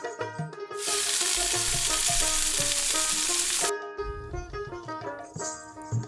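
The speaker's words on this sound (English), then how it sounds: "I have added a tablespoon of ghee to the oil to enhance the flavor of Malpuas. Let's fry them one by one." Toddy palm malpua batter hits hot oil enriched with ghee, setting off a loud, bright sizzle that holds for about three seconds and then drops back to quieter bubbling, with light clinks around it.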